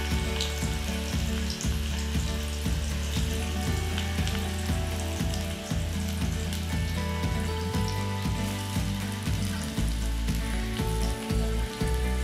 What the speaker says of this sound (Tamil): நீளவாக்கி ஊற்றி வச்சுருக்கிற வெங்காயத்தை போட்டு நல்லா வதக்கிங்க